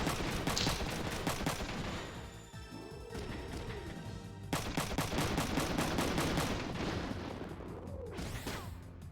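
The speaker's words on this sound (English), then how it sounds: "He can just keep shooting all the bullets forever." Bursts of gunfire from a video game, with one character firing bullets endlessly, crack out in dense rapid volleys across the whole stretch, loud and close, with brief lulls and crashing impacts between the strings of shots.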